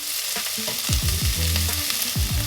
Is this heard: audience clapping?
no